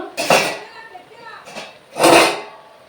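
A metal lid lifted off a cooking pot of boiling cabbage, two quick clanks close by, the second louder, with someone speaking between them.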